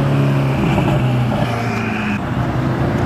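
Supercar engine held at a loud, steady rev on a dyno, a close, droning tone with a strong low hum and a slight shift partway through.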